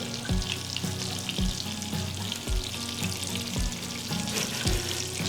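Chicken sautéing in olive oil in a pan gives a steady close sizzle and crackle, with repeated low clunks of the pan or utensil about once a second, and no talking.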